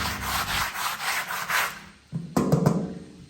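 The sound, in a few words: wiping dust off a school bus surface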